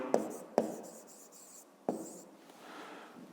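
Chalk or marker writing on a board during a fifth-grade maths lesson, a few sharp taps followed by short scratchy strokes, quiet and close, with no talk.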